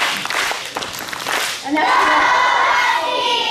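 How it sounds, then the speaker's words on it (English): Schoolchildren at a morning school assembly cheer for a classmate, a loud, dense burst of young voices rising after a brief spoken word and holding steady to the end. "Give Molly a big husky cheer."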